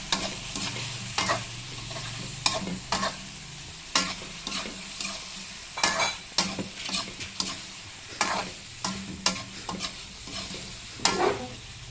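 Fish frying in a pan at breakfast gives a steady close sizzle broken by repeated sharp pops and scraping knocks, with no talking.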